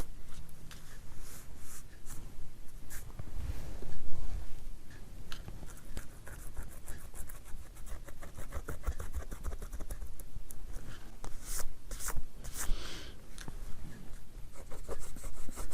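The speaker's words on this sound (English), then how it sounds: "Let me get some of this glue off and then I'll erase the rest of it with the glue eraser" A glue eraser rubs leftover glue off a handmade card, giving continuous close scratchy friction in quick back-and-forth strokes with a few louder bursts, steady throughout and with no talking.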